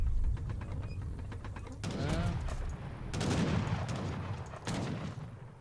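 Gunfire and mortar blasts ring out in a snowy video game battle, with repeated loud bursts and crackling volleys in close succession, several separate explosive bursts over a few seconds.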